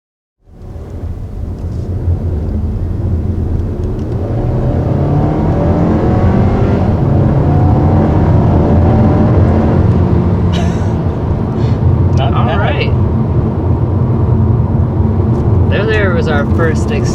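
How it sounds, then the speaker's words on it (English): A 2021 Kia Seltos with a 1.6-liter turbo engine accelerates on the road, its engine note rising and holding loud and steady from inside the cabin after a quiet start, with brief clicks and thumps near the end. "let's go ahead and get out on the road and see how that turbo engine performs"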